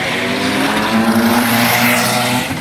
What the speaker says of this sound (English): That's a drag racing going.